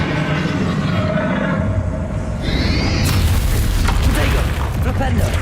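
A booming Bombarda spell explosion in Hogwarts Legacy, a loud burst with a crackling rumble that swells midway and carries to the end, with a voice speaking around it.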